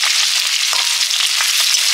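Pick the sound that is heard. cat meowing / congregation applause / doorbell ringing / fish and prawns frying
fish and prawns frying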